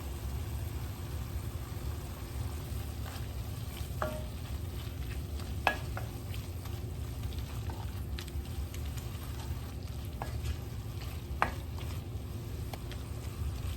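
Ground meat with smoked paprika and thyme cooks on low heat in a pan, a soft steady sizzle under a low rumble, punctuated by a few sharp utensil clicks and scrapes.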